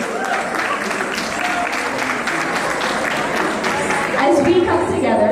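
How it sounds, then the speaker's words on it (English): Audience at an International Women's Day event for a grassroots women's council gives sustained applause for the organization's executive, a thick wash of clapping with voices mixed in, swelling slightly near the end. "Can we have a round of applause for the wonderful executive of this grassroots community"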